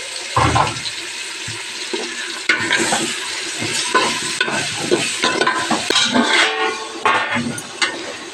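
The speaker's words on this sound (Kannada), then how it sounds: "ಇವಾಗ ಚೆನ್ನಾಗಿ ಫ್ರೈ ಆಗಿದೆ" Cleaned, cut mushrooms with turmeric fry loudly in a pan, giving a dense, continuous sizzle and hiss with stirring clatter throughout, heard up close without speech.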